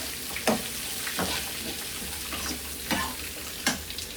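Poha masala with beans and potatoes sizzles steadily in a pan while a spoon stirs it with a few soft scraping strokes, close and fairly quiet, with no talk.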